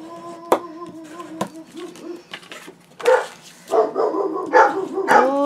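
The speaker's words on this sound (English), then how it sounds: "Sissy and Sasha are barking at something." Dogs bark in several sharp bursts indoors, a few yips and whimpers between them, fairly close and loud.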